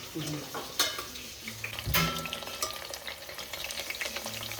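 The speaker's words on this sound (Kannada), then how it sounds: "ಇದು ಎಣ್ಣೆ ತುಪ್ಪಕ್ಕಾದ್ಮೇಲೆ ಕಟ್ ಮಾಡಿರೋ ಬದನೆಕಾಯಿ ಹಾಕಿ ಎಣ್ಣೆಯಲ್ಲಿ ಫ್ರೈ ಮಾಡಬೇಕು." Cut brinjal frying in oil and ghee in a home kitchen, with a sizzling bed broken by the scrape and clink of a spoon stirring against the pan, including one sharp metallic knock near the middle.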